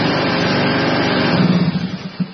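A lawn mower engine runs close by at a steady, loud drone, its pitch wavering slightly toward the end.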